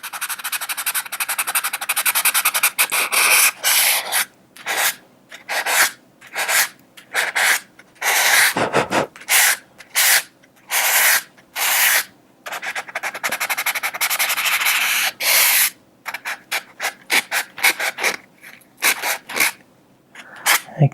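Close, rhythmic strokes of 600 grit sandpaper rub across a guitar kit's finish, steady scratchy sanding at first, then broken into short repeated bursts with brief gaps between them.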